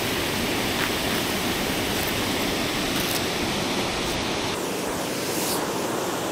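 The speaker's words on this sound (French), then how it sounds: "Voici la cascade." The Cascade du Mas Naffre waterfall in the Montagne Noire forest pours with a steady, loud, close rushing roar that never lets up.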